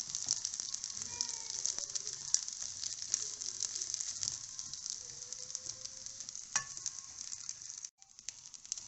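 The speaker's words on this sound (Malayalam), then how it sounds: "കുറച്ച് സമയം നമുക്ക് ഈ വെള്ളമൊക്കെ നല്ലോണം തോരുന്നിടം വരെ ഒന്ന് വറുത്തെടുക്കാം." Washed rice frying in a pan for ghee rice makes a continuous close sizzle with occasional soft stirring scrapes and a sharp clink, fading near the end.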